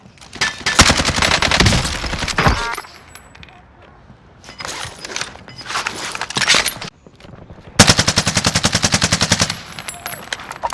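Machine gun fire in a helicopter combat video game, rapid bursts of shots in several separate volleys, loud and close, with game sounds between them.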